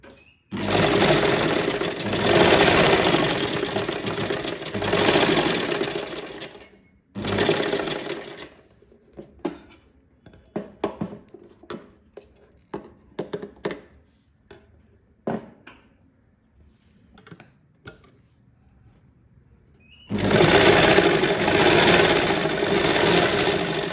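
A sewing machine runs in fast continuous bursts while stitching a double-folded edge on a kids' box pleat skirt. Two long stretches of whirring frame a quieter middle filled with clicks and handling taps as the fabric is adjusted.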